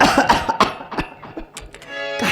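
Several close, harsh coughs and throat-clearing bursts come in quick succession, with short pauses between them.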